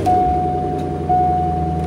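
A C5 Corvette engine idles close by after an ignition switch repair, a steady low rumble with a thin whine held over it.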